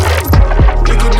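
Dubstep-style growl bass synth in a dark alt pop track, loud and heavy, with two sweeping downward growls early on over a sustained low throbbing drone.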